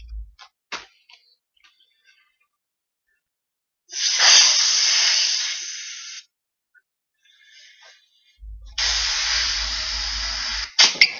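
Two long breathy bursts of air blown by mouth into a balloon, each lasting about two seconds, separated by a pause with faint rustling and clicks; close and moderately loud, with no talk.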